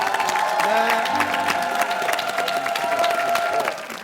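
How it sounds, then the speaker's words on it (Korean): A Korean TV variety show studio audience applauds in a dense, sustained round of clapping mixed with light cheering, holding steady throughout before easing slightly at the end. "박수 한번"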